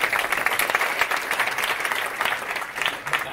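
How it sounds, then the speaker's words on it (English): Steady applause from a sizable audience at a startup pitch event, dense and continuous clapping throughout with no pauses. "Please, everybody, give a big round of applause for our last presenter, Henrik"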